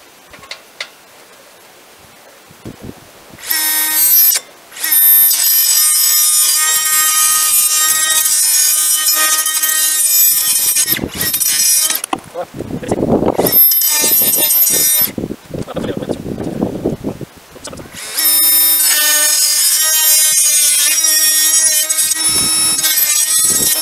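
An AEG BMMS18SBL subcompact cordless angle grinder cuts a small piece of PVC, its loud high whine starting and stopping in several bursts with gritty cutting noise between, close up, with someone talking in the pauses.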